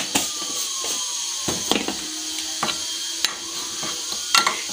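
Spiced flour coating for fried chicken, seasoned with salt and turmeric, being mixed close up in a bowl, with repeated scraping and tapping strokes of a utensil in an uneven rhythm and no talk.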